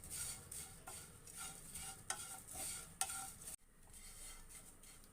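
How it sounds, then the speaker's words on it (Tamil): Flattened rice (aval) is dry-roasted in a hot kadai, giving soft rhythmic scraping strokes of a spatula with a faint sizzle. The sound is quiet and close, and one sharper knock comes partway through. "நல்லா வறுத்துக்கோங்க."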